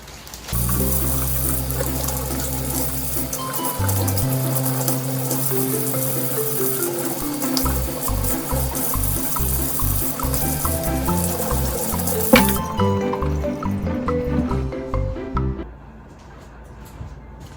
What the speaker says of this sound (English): So first I'm gonna wash my peppers.